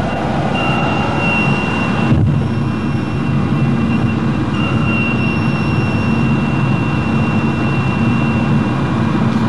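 A loud, steady jet engine roar with a rumbling low end, continuous throughout, like engines spooled up in reverse thrust during a landing rollout.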